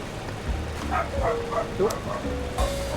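A small dog in the point-and-click game Loco Motive lets out a series of short yips and barks, several in quick succession, against a low background hum while a voice talks.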